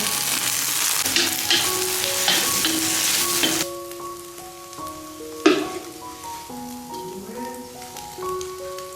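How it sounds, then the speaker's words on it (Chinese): Eggs stir-fry in a hot wok with chopped scallion greens, giving a loud, dense sizzle at first that drops to a quieter frying hiss under a steady melodic tone. "下面我们炒鸡蛋， 鸡蛋炒成块儿，我们把切好的葱叶子放进去。"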